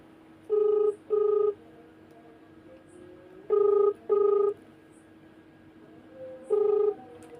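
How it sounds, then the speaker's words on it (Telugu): Ringback tone of an outgoing telephone call, heard as clear double beeps that repeat about every three seconds, loud and close over a faint steady hiss, with no talking. "ఆయన గారికే ఫోన్ చేద్దాము ఫోన్ చేసి మాట్లాడదాం"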